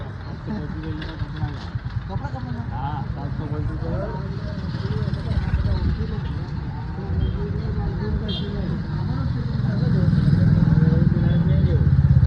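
A motorcycle engine rumbles along a village road in Sanjeli, Gujarat, a continuous low drone under people talking that grows louder near the end as the bike draws closer.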